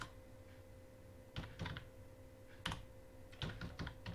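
Computer keys struck while typing an SQL alter-table command: faint, close clicks in small clusters separated by pauses, over a steady low electrical hum, with no speech.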